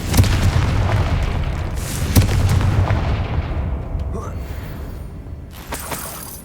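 A Confringo blasting spell goes off in Hogwarts Legacy, giving a loud booming explosion with a sharp crack, then a second heavy blast about two seconds later, each followed by a fading rumble and a faint late pop.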